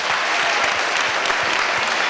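A hall audience at a Prix Chronos event claps loudly and continuously for a 91-year-old woman, a thick, uniform wall of applause filling the room without speech.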